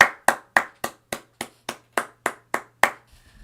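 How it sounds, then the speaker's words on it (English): A single person clapping, about eleven sharp, evenly spaced claps in a steady rhythm, close and fairly loud, with no talking over them. "Let's clap it up."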